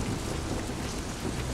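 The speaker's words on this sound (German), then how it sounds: "Und hier regnet es durch." Rain in the video game TOBY: The Secret Mine, a steady, dense hiss of falling rain with a low rumble beneath, constant and unbroken throughout.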